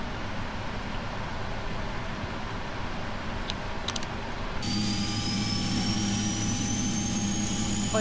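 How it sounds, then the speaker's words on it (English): Jet engine number 2 of a PMDG Boeing 777 spools up in the FSX flight simulator, a steady turbine roar joined by a rising whine partway through, with no talk over it. "Start engine 2. Starting 2."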